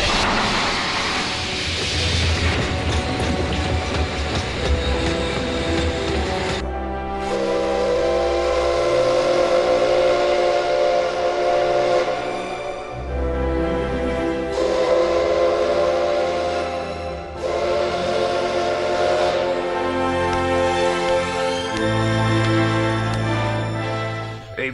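In the One Piece anime, a sea train whistle blows in long sustained tones as the train departs, mixed with rumbling and swelling orchestral music, loud and continuous with no talk.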